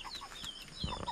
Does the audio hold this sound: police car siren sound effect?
no